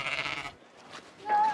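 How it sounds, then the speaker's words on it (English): A single sheep bleats briefly at the end after a burst of noisy background sound, fairly close and moderately loud. "It's a sheep"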